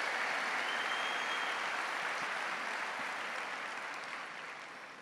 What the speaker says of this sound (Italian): diamo un applauso